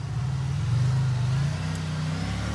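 A KTM 450 quad's engine revving while the machine sits stuck on top of a Buick's roof, a close, loud, sustained motor drone that swells and wavers, with no voices.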